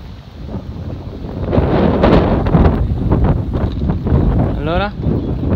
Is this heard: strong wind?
yes